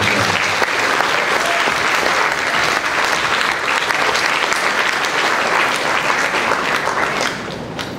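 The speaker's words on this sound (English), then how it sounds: "Join me in a round of applause for all of them." A large audience at a cadet awards ceremony gives a sustained, loud round of applause for the honored cadets, dense and even throughout before easing slightly at the very end.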